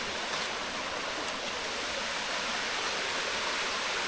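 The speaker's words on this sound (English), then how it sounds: "And there is our waterfall." Steady broadband rush of Pirate Waterfall in Thailand, a dense continuous roar of falling water that stays even and fairly loud throughout, with no voices.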